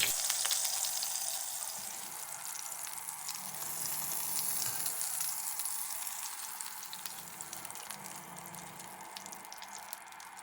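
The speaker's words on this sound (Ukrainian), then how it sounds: "тоді перевертаю на іншу сторону і накриваю кришкою. Під кришкою обсмажую до готовності." Waffle brizoli filled with minced meat fry under a lid in oil, giving a soft, even, continuous sizzle and crackle that stays faint and steady throughout.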